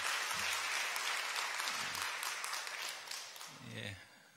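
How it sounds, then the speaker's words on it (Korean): A church congregation gives a dense, sustained burst of applause to welcome visiting members. The clapping slowly thins toward the end, and voices briefly murmur underneath. "여러분들 환영의 박수 부탁드립니다"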